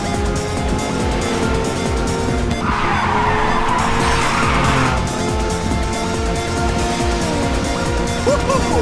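A race car roars steadily through a Ridge Racer 6 video game race, with a hissing tire skid swelling in the middle before the engine drone carries on, loud and continuous under game music.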